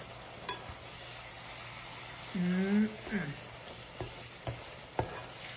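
Mushrooms with vinegar sautéing in a pan, a steady low sizzle with a brief louder hiss midway and a few scraping stirs after, faint voices in the background.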